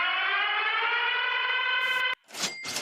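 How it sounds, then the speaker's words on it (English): A civil-defense-style siren sound effect plays on a sports free agency livestream, a loud sustained wail holding steady for about two seconds before cutting off, followed by short bright bursts of sound. "I'll hit this siren."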